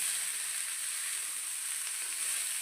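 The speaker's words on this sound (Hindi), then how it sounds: "और इसे हम अच्छे से फ्राई करेंगे" A vegetable and paneer snack mixture frying in a pan, giving an even, dense, unbroken hiss of hot oil, close and fairly loud.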